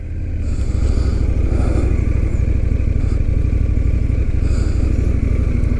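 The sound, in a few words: Indian FTR 1200 motorcycle riding away on test ride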